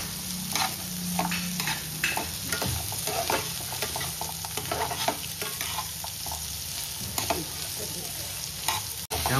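Onions and spices fry over a low flame for homemade butter chicken, a continuous soft sizzle broken by repeated scraping and clacking of a spoon stirring through the pan, close and without talk.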